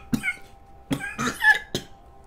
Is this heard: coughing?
yes